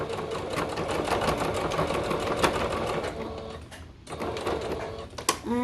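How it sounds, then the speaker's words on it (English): A sewing machine stitches straight down the seam of slim joggers, running in a steady fast mechanical whir with a brief pause near the end before a final burst. "you just want to sew straight down"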